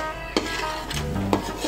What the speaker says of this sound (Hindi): देखिए चम्मच चलाते हैं अच्छी तरीके से हम, अच्छे तरीके से पकाएंगे इसे हम